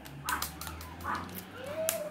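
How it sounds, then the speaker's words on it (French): A chihuahua yips and barks in short bursts close by, with a few sharp high yaps spread over a couple of seconds on a farm where goats are kept nearby. "Surtout ma chihuahua qui ouvre sa grande."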